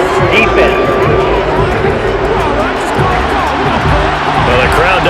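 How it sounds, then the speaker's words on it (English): Dense stadium crowd roar from a Madden 23 football game between the Cowboys and Buccaneers: a steady, loud wash of massed voices and babble, swelling with disapproval and running without a break. "the crowd doesn't like that"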